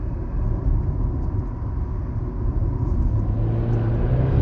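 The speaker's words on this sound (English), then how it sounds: "What it does is it releases 30 horsepower from the engine, valves open in the exhaust" A Volkswagen Golf Sportsvan's engine and exhaust in sport mode give a loud, steady, low rumble that holds constant throughout with a slight lift near the end.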